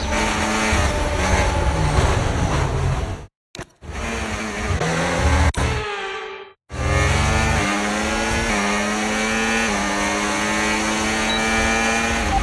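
Formula 1 race car engines from the F1 25 game scream loudly and continuously, with rising and falling revs through gear changes. Two brief gaps of silence break the sound, and the engine resumes at full volume.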